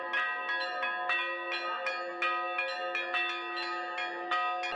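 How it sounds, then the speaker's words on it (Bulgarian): Church bell ringing out in the village of Yavrovo at the start of a feast, repeated clangs in a steady rhythm with long overlapping ringing tones, clear and fairly close, no voices. "Църковната камбана оглася началото на празника"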